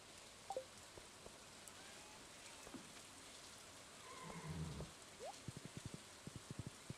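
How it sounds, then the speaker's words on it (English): Light rain falls in a farming video game, making a faint, steady patter under soft scattered game effects and a short run of quiet rhythmic ticks near the end. "It's also raining."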